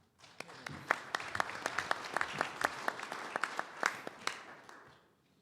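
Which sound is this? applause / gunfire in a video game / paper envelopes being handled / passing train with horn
applause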